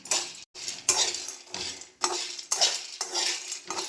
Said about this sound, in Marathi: फुटाणे भाजून घेऊया आपण